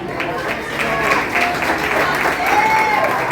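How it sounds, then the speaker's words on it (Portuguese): A church congregation claps in praise, a continuous dense patter of hands with voices and a tone or two rising through the crowd noise. "E louve ao Senhor com palmas"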